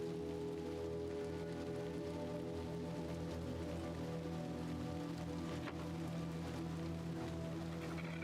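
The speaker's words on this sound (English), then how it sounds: "We're in the rain" Steady rain falling in the Little Nightmares 2 video game, a dense continuous patter and hiss with a low steady drone underneath, holding evenly throughout with no talking.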